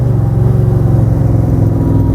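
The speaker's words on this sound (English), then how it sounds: "listen to the downshift. I'm gonna go from second to third, from third to second actually." A Superformance Cobra's V8 engine rumbles close and loud as it downshifts from third to second, the low exhaust note rising and pulsing steadily with no talk over it.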